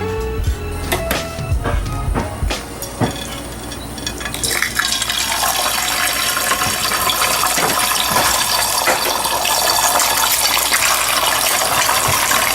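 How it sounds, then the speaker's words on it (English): A sunny side up egg goes into a very hot pan, and a loud, steady sizzle takes over after a few clinks and clatters of cookware at the start. "Now what I'm going to do as an extra top is I'm going to fry a sunny side up egg or an over easy egg"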